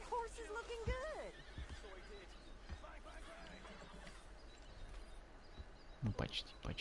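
Horse in Red Dead Redemption 2 neighing with a wavering whinny at the start, then snorts and hoof clops over quiet outdoor ambience, with game voices speaking.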